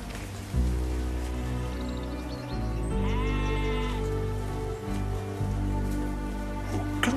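Sheep bleat repeatedly with loud, wavering cries close by, over a steady patter of rain and a low continuous rumble.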